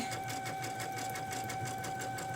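A sewing machine steadily stitches a fishing line hem, gathering the fabric under the presser foot, with a continuous even mechanical whir and rapid needle rhythm throughout, close and alone.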